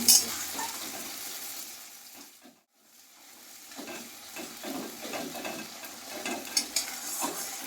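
A paste of ginger, garlic and green chili fries with onions for a Bengali ghugni, a soft sizzle broken by brief scraping stirs and a short quiet gap, all close and moderately faint.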